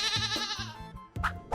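A goat bleats in a short series of wavering, nasal cries, loud and close, with a brief pause before another bleat starts.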